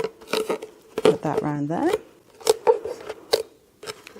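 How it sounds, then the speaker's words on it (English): Insulation tape is cut and wrapped around a plastic bottle top in a crisp series of close snips and tape crackles, with a brief stretching squeal, while a person talks over part of it. "I'm going to use some insulation tape just to cover up the top of the bottle."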